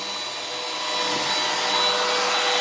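Oliver CNC router spindle spinning up with a steady high-pitched whine and airy hiss that grows slightly louder, continuous and close, with no voices.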